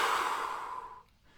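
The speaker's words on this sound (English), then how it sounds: "let's take a deep breath" One deep, slow exhale sounds close and soft, a breathy rush that fades out over about a second.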